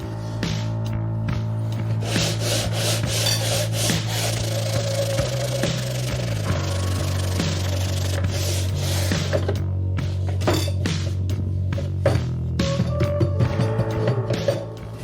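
Sandpaper rubs back and forth over the wooden fretboard of a guitar in steady, close strokes, a continuous raspy scraping over a low steady hum, with no talking.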